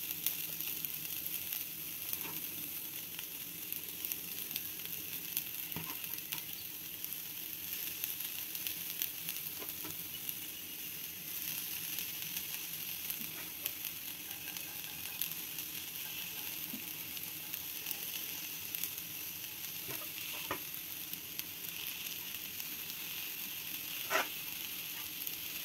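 Varagu semiya upma being stirred in a frying pan, a faint, steady sizzle running throughout with occasional light scrapes and taps from the spoon, no talking.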